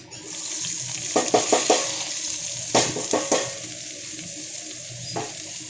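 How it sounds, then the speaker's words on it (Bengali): Onion and tomato fry in a kadai with a continuous close sizzle while a spatula scrapes and stirs in several quick clusters of strokes, with no talk. "পেঁয়াজ আর টমেটো। এটাকে হালকা করে শুধু নরম করে ভেজে নেব"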